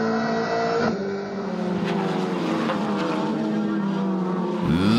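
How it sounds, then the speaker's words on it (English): In-car engine roar from a Toyota Gazoo racing car at Killarney circuit during a GTC race, loud and sustained, with a distinct gear change near the end. "In car now with Michael van Rooyen in the Toyota Gazoo racing car"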